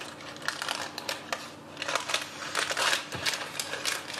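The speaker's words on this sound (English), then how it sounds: "we need to now peel off the parchment from the meringue." Parchment paper peeled away from a baked meringue sheet, a steady run of close, crisp crackling and papery rustling with small irregular bursts, continuous for a few seconds with no talking.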